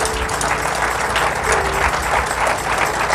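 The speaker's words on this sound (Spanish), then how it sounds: "Un fuerte aplauso a Dios" A church congregation breaks into loud, sustained applause, a thick wash of clapping over a low rumble of room noise and crowd murmur, steady throughout.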